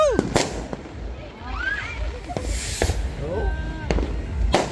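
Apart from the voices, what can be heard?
New Year fireworks exploding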